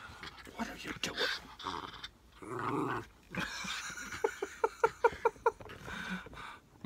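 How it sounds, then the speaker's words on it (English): A small dog growls and yips indoors, a run of short sharp bursts close by, with someone talking over the first half. "Oh, you savage little dog."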